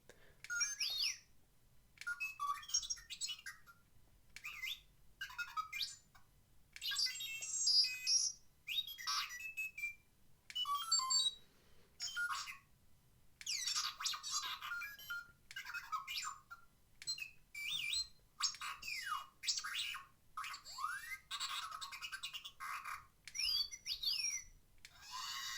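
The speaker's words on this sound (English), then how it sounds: "I'm in love with the lights and sounds on this R2." Hot Toys R2-D2 Deluxe figure from the Star Wars Original Trilogy playing a string of its electronic beeps, chirps and warbling whistles in quick bursts separated by short gaps, fairly quiet and close, with no talking.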